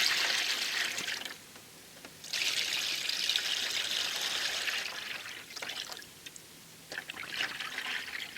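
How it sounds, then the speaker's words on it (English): Sugar syrup pours into a top feeder on a small beehive in winter, a steady liquid trickle that stops briefly twice and then resumes, close and clear with no talking. "Let's pour the sugar in."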